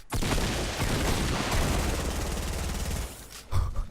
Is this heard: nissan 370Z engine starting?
no